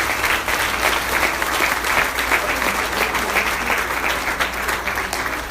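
A church congregation applauds together in sustained, dense clapping that stays steady and full for several seconds, filling the room without a break.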